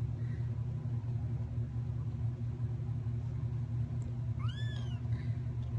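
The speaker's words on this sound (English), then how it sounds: "Meows." A kitten gives a single short, high meow near the end, rising and falling, heard over a constant low engine-like rumble that fills the background.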